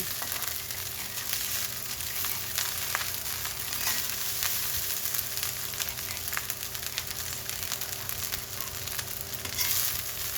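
Sinangag, Filipino garlic fried rice, sizzles steadily in a hot pan while being stirred, a dense continuous frying hiss with faint scraping of the spatula, no voices.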